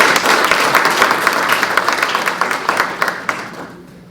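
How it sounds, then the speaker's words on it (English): Loud, close applause from the audience at a Poetry Out Loud recitation competition, dense clapping that holds steady and then fades away over the last second. "Let's give Savannah another round of applause."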